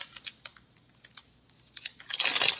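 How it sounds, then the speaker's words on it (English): Plastic packaging crinkles and crackles as it is opened, starting as scattered soft rustles and rising to a dense, loud burst of crinkling near the end. "people apologize for the crinkling, but I love to hear that crinkling sound when I watch a video"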